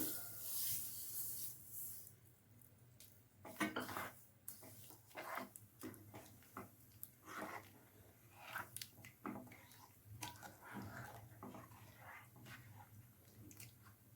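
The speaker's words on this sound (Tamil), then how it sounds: "நல்லா கட்டி இல்லாமல் கிண்டி விட்டுக்குங்க" Sugar is stirred into a roasted gram (pottukadalai) halwa in a pan, heard as faint, uneven scraping and rubbing strokes of a spoon against the pan, close by and quiet, with no talking.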